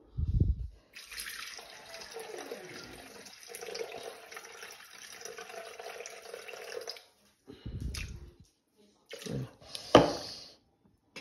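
Water is poured into a pot of pears, a steady close splashing trickle for several seconds, followed by a few shorter splashes and clinks.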